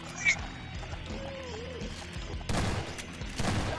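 Gunfire in Garry's Mod on a horror prison map, heavy bursts of shots arriving late under people chatting, with quieter game noises before them.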